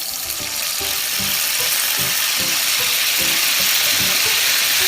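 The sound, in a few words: oil splattering while cooking squid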